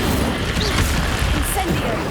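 Incendio fire spell cast in Hogwarts Legacy, a dense roaring burst of flame with crackling impacts that fills the whole moment, loud and close, with other game effects mixed in.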